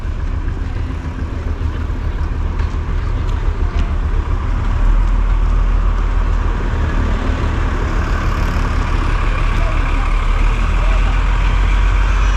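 Old stationary engines at Amberley Museum chug and rumble continuously in the foreground, a low steady mechanical beat, while people talk nearby throughout.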